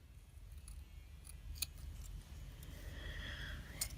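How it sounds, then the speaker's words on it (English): Scissors snip through white paper in a few sharp, close clicks, followed by a brief sliding rasp of the blades against the paper. "I'm going to line this up and I'm going to trim it right here"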